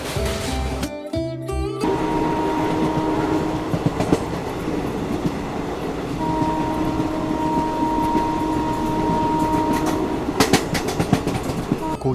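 A train on Indian Railways rolls along near Naugachia after crossing the Kosi River, a steady rumbling clatter with rhythmic wheel clicks, brief sharp bursts near the start and toward the end, and no speech.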